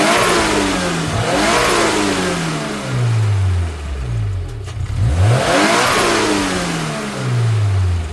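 A turbocharged Subaru BRZ fitted with a block-off plate is revved from idle, loud and close, in two or three rising-and-falling throttle blips between steady idling.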